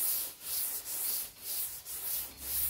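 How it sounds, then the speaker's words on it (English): Sanding block rubbing high build epoxy primer on a Coupe DeVille car body, steady rhythmic back-and-forth strokes repeating about twice a second, close and alone without talk. "let the sandpaper do the work."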